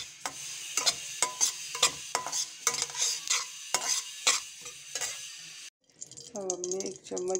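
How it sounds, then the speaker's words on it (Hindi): Sesame seeds roasting and puffing in a pan, stirred with a spoon: close, irregular scraping strokes over a light sizzle, followed by a brief burst of talk at the end. "इसको हम हल्का सा भून लेंगे ताकि ये फूल जाए। देखिए हमारे तिल फूल गए हैं।"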